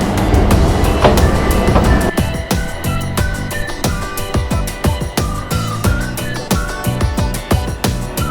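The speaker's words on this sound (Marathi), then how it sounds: "आपली आता ट्रेन आलेली आहे, बघू शकता तुम्ही." BTS Skytrain pulling into a Bangkok station platform, a loud continuous rumble with rhythmic clacking and squealing tonal whines as the train slows, no voices.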